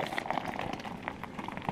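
Dense fizzing of nitrogen-infused Pepsi cola settling after a hard upside-down pour, a steady soft crackle of tiny bubbles, close and quiet, with no talk.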